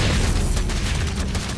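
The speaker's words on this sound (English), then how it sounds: "and there goes that cannon." Photon cannon destroyed in a StarCraft game, a loud, deep, rumbling blast that fills the whole moment with dense low booms and crackle.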